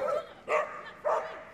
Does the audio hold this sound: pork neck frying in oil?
no